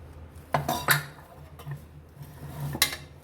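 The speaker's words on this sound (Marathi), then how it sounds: "तर कुकर खोलून घेते" A pressure cooker lid is opened after cooking chickpeas, with a few sharp metallic clanks and clinks spread over a few seconds against quiet kitchen background.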